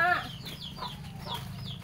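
A chicken clucks several times in short, close, fairly loud bursts, apparently in a village yard in Karawang, with a low steady background hum.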